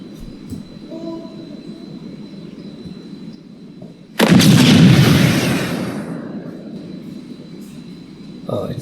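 A thrown smoke grenade in an Unreal Engine 5 game goes off in a sudden loud, broad hissing burst that dies down over a couple of seconds, after a stretch of quieter background noise.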